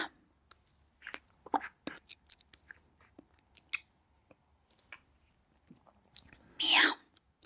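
A whispering voice imitates eating with soft wet chewing and smacking mouth sounds in ASMR style, scattered clicks and a louder crunchy burst near the end, all close and quiet.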